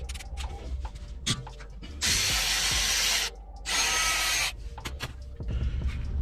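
Two 13mm caliper bolts on a 2015–2019 Ford F150 front brake are backed out with a tool: two sustained, rattling ratchet-like bursts close up over a quiet garage background, with a few light clicks between them.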